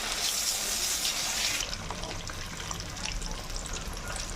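Fish pieces fry in oil in a pan, a soft hissing sizzle that is brighter at first and then settles into a quieter bubbling crackle, heard close but at low volume.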